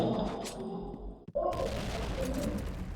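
Gunfire and blasts in a game, a dense, continuous rattle of shots with a brief sharp boom in the middle, loud and close.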